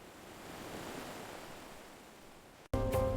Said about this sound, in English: The gentle touch of waves.